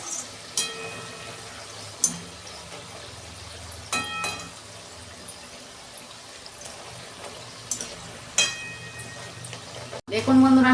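Nimki, a flaky savoury snack made from unsalted flour dough, frying in oil with a soft steady bubbling and scattered sharp pops, fairly quiet, ending in a brief louder rustle.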